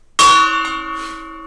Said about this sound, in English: You forgot the gong.